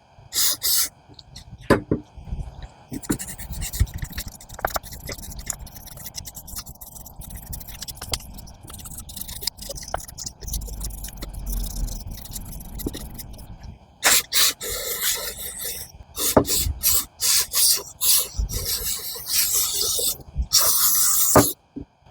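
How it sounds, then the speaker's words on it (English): Repeated bursts of carburetor cleaner spraying through the carburetor of a Talon AT33352 line trimmer, hissing in short blasts, getting denser toward the end, with some handling noise and faint background sounds. "spray through the carburetor."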